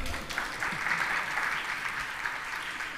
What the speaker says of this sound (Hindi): समझ में आई कि नहीं? बजाओ ताली।